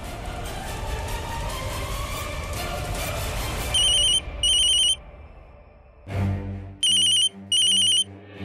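A telephone rings over a speakerphone, an electronic ringtone in two paired bursts that repeats after a pause, loud and close, with dramatic background music and noise underneath.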